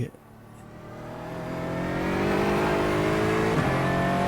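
Aston Martin V8 race car in iRacing, the engine building from a near standstill into a loud, sustained drone with a steady transmission whine layered on top, rising gradually and then holding level.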